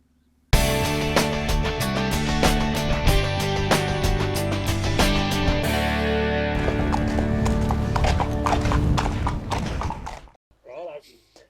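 Horse hooves clip-clop in a quick rhythmic patter alongside music at a racing stable, loud and continuous before thinning out and fading near the end.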